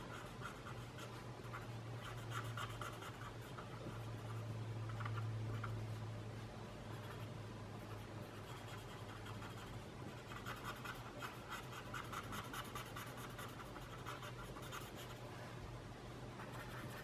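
A pencil scratches steadily across paper at a desk lit by a small floor lamp, a soft continuous scribbling and hatching texture that runs close and quiet for the whole stretch, with no talking.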